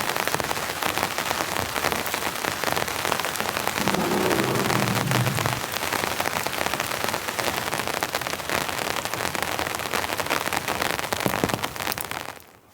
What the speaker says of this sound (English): the rain's just coming in solid